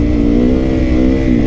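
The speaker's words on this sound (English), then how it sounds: "my bike kind of sounds like it's going fast" A loud, steady engine drone with a rising pitch, like a motorcycle accelerating up close, continuous throughout.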